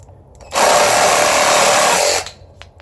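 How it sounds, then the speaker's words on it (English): A 20V cordless reciprocating saw with a general-purpose blade cuts through PVC pipe in one loud, steady buzzing burst of about a second and a half, starting and stopping abruptly, close up with quiet before and after. "next I'm gonna try to use their general blade, just cutting a PVC pipe"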